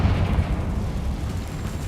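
A Confringo fire spell blast in the video game Hogwarts Legacy, a loud rumbling explosion with a deep booming low end that sustains for a couple of seconds.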